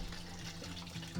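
Chicken stock pours steadily into a pot of roasted tomato carrot soup, a close, continuous liquid splash and gush with no talking.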